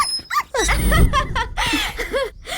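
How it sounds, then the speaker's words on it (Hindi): A puppy whimpering and yipping in a series of short, high, rising-and-falling cries, loud and close, with brief gaps between the whines. "कंचनमाला मतलब कुत्ते का बच्चा?"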